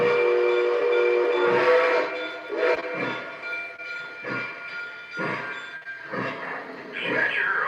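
A train pulling out onto the main line after radio clearance from the dispatcher, its rumbling wagons and a horn sounding under steady radio chatter and talk, with repeated pulses of movement noise throughout.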